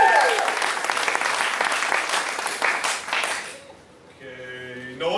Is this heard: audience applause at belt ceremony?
yes